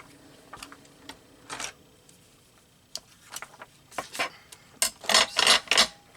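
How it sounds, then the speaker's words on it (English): Craft work on a glass mat with paper, a series of sharp taps, scrapes and clicks in irregular bursts, growing louder and denser toward the end, close and with no talking. "Sorry about that noise on my glass mat."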